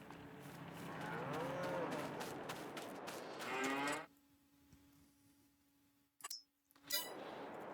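Cows in a farming simulation game moo loudly in overlapping calls, then fall away to a low steady hum broken by a couple of sharp clanks near the end.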